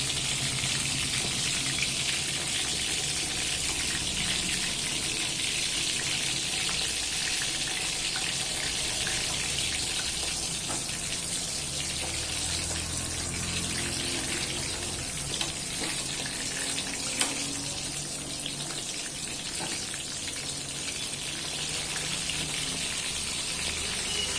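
Soya chunks frying in oil on medium heat, a steady, even sizzle that holds alone throughout with little change in loudness.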